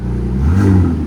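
A quick throttle blip from a 2025 Ram RHO's 3.0L twin-turbo inline-six swells and fades through its Magnaflow SPEQ cat-back exhaust, a short, loud, close rev.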